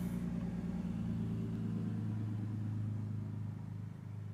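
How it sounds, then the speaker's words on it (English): Cars passing on a nearby road make a steady low engine and tire rumble that holds through the whole stretch and eases slightly at the end; no one talks. "sorry, cars going by."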